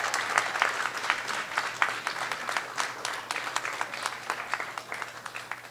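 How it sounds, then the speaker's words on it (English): Graduates at a middle school ceremony for the class of 2021 give their families a sustained round of applause, many hands clapping evenly at moderate volume, with a low steady hum underneath. "I want you to find your family and give them a big round of applause that they deserve for everything they do"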